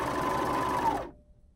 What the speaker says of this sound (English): we're going to go ahead and start sewing our elastic to the arm side